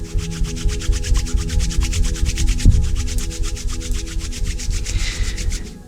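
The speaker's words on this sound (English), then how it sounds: "you can rub your hands together until they're warm" Hands are rubbed briskly together to warm them, making a steady run of quick, even swishing strokes close up, over a soft sustained musical drone.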